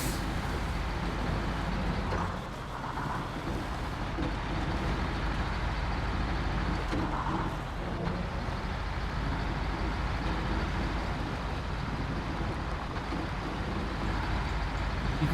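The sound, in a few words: truck engine driving in SnowRunner video game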